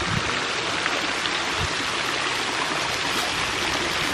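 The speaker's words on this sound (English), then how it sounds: "we're just out here enjoying a little splash pad right now" Water sprays constantly at a resort splash pad, a loud steady broadband hiss like a gushing stream, with faint brief thumps underneath.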